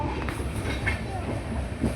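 A local commuter train in Mumbai rumbles past close by, a steady, dense roar of wheels and rail noise with no clear breaks. A faint voice can be heard under it.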